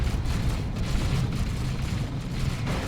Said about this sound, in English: Some explosions going on and people dying.